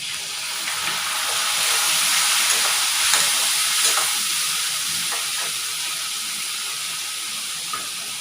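Dry spices with coriander powder and red chilli powder sizzle steadily in a hot pan after a splash of water, a loud continuous hiss with faint stirring clicks and no talking.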